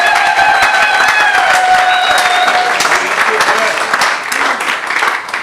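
A church congregation applauds loudly and steadily, with cheering voices rising through the clapping, close and sustained before tapering slightly toward the end.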